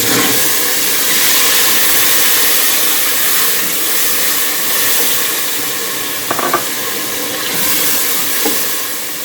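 Tomato paste hits browned onions in a hot pan for a Lahori chana masala, setting off a loud, steady sizzle and hiss with a few brief scraping stirs.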